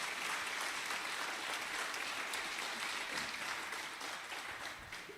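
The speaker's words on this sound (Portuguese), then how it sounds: "Você pode aplaudir ao Senhor mais uma vez?" A church congregation applauds the Lord during a Sunday service, a steady, dense wash of clapping that holds evenly throughout and tapers slightly at the very end, with no voices over it.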